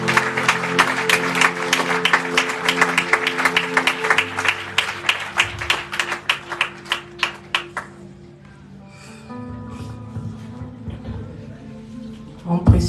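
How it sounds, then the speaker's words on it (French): Applause from mourners at a funeral for a deceased man, a dense burst of clapping that thins into scattered, separate claps and then fades into quieter murmuring and background sound. "je vous demanderai encore de donner un tonnerre d'applaudissements pour ce grand homme qui est ici"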